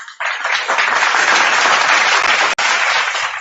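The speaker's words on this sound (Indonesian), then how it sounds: "kita tepuk tangan untuk itu" An audience breaks into loud, continuous applause that starts abruptly and holds steady, with a brief dropout partway through and no voices over it.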